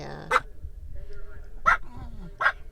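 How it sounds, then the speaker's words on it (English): Two dogs settling down make three short, sharp whimpering yips spaced about a second apart, close by, with low background rumble between them. "And then doggies, Chewbacca and BobaFett are settling down"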